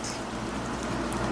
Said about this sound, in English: The rain has begun to fall harder.